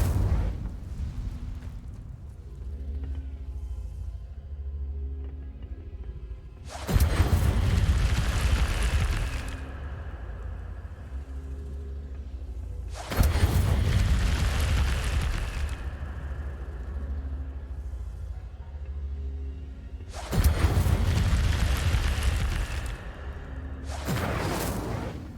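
Hogwarts Legacy Incendio fire spell cast three times at regular intervals, each a loud whooshing burst of flame that rumbles and then fades. The game's background hum carries on between casts.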